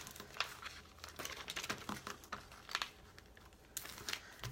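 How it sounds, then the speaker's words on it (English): Adhesive transfer tape is peeled from its backing during vinyl sticker work, making faint, close crinkling and tearing sounds in short irregular bursts, with no talk. "transfer tape is super hard to get off the backing"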